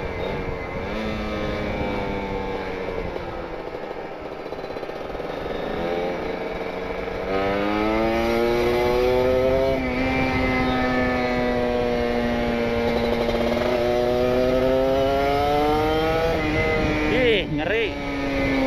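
Kawasaki Ninja RR two-stroke motorcycle fitted with an R9 Neo Mugello carbon exhaust, revving up and holding high, with rising and falling engine tones that stay loud and close.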